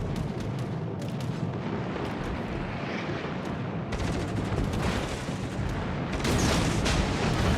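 A torpedo salvo launches from a Harugumo destroyer in the World of Warships naval battle game, a dense, loud barrage of booming bursts and rumbling impacts layered over constant battle noise.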